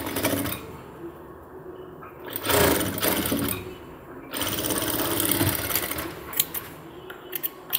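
A sewing machine stitches seams on cargo half pants in close, loud runs: a short burst, a pause, then a longer steady stretch of rapid needle chatter, with fabric handling in the gaps.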